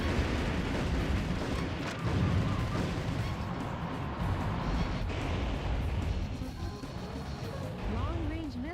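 Booming explosions from a bombing run in a mecha video game, heavy rumbling blasts layered continuously over dense game noise, with a voice speaking over the action.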